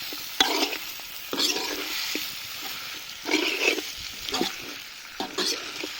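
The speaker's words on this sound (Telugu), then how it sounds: "చికెన్ వేసి ఒక పది నిమిషాలు ఇట్లనే ఫ్రై చేసుకుందాం" Chicken pieces frying with onions in an iron pan, a steady close sizzle broken by several loud bursts of stirring and scraping, with no talk.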